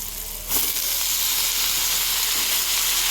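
Mustard greens tipped into a hot pan burst into a loud sizzle that settles into a steady, dense hiss of frying, close up with no talking.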